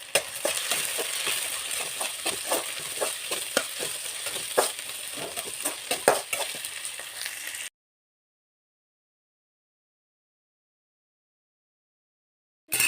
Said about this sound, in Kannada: ಸೊ ಇದು ಫ್ರೈ ಮಾಡ್ಕೊಳ್ಳೋಣ.